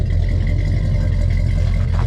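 A 1966 Ford F250 truck engine runs steadily through its dual exhaust, a loud, even low rumble held close for two seconds with no voices.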